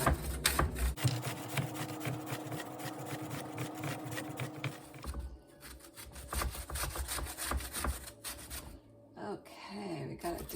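Zucchini rubbed by hand against a grater, a steady run of rhythmic rasping strokes close by that slows and breaks up toward the end, with some background noise and no talk.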